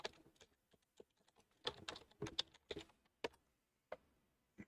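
Quick bursts of keystrokes on a computer keyboard, including presses of the backspace key, close and fairly quiet, clustered irregularly with short pauses between runs.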